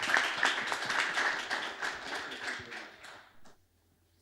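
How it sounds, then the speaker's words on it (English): Applause from a start-up pitch audience in Cyprus, many hands clapping steadily for a few seconds before fading out into quiet. "A round of applause, ladies and gentlemen."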